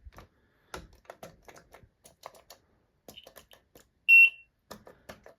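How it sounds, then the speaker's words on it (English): A John Perry lift floor panel alarm button gives one short, bright electronic buzz, loud and close, set among scattered clicks and taps of nearby buttons. "That's the alarm button."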